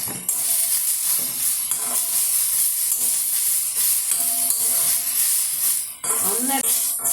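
Onions and curry leaves sauté in a hot pan with a steady, bright frying sizzle, broken by occasional stirring scrapes and clinks, a louder spatter near the end.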